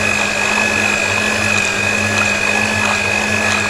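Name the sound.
electric beater grinding mustard greens saag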